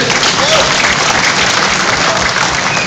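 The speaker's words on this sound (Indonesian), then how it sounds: "Tepuk tangan, kasih semangat Pak Menteri." Dense, loud applause from a crowd at an outdoor government event in Muara Angke, Jakarta, welcoming the Coordinating Minister for Economic Affairs, with clapping steady throughout.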